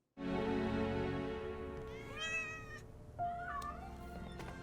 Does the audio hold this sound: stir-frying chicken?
no